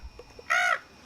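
A dolphin gives a single short, bright chirp at close range, clear and fairly loud against a quiet background.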